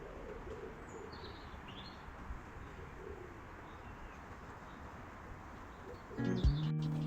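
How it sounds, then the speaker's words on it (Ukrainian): Distant birds call softly over a steady outdoor hum in a park, with a low cooing and a few faint chirps, before a louder noise at the end. "Пташки співають"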